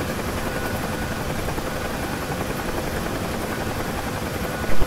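UH-1H Huey helicopter in the DCS flight simulator, a steady, loud rotor and turbine drone holding constant throughout with no speech over it.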